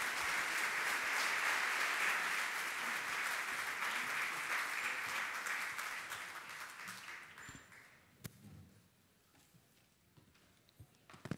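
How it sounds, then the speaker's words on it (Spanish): Audience applause for panelists at a retirement-fund administration panel, a dense burst of clapping that holds for about six seconds, then thins out and fades to a few scattered claps and quiet room noise. "Pido por favor un aplauso para ellos."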